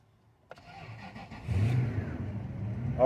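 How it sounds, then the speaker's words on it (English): A car engine with a broken shifter stuck in park cranks briefly and catches, then settles into a steady idle that swells slightly louder toward the end, close by. "Car is up and running."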